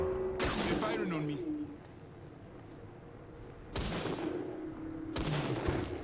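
Gunfire in Apex Legends during a firefight, with three sharp bursts of shots, each trailing off into a ringing tail, set against steady game background noise.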